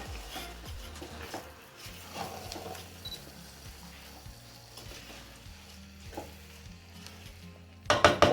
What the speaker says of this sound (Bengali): চালগুলো ভালোভাবে ভেজে নেব।